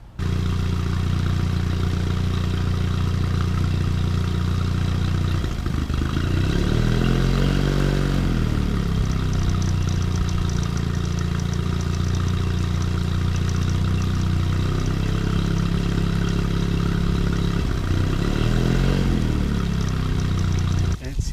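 Mercury 9.9 outboard motor running after carburetor work, a close, steady putter that twice rises into short revs and settles again, with a voice talking over it.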